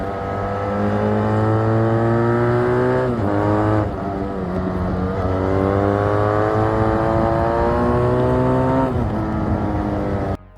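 Husqvarna Nuda 900 motorcycle with a 360-degree parallel-twin engine revving hard, a smooth continuous engine note climbing in pitch across several long pulls with brief dips between gear changes, loud and close.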